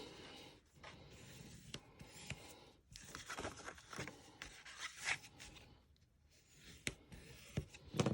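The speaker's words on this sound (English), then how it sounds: "let's go ahead and get out our bone folder. And we are going to burnish." A bone folder burnishes score lines on cardstock, making soft, close rubbing and scraping strokes in uneven bursts with brief pauses between them. A few light taps are also heard, and no one speaks.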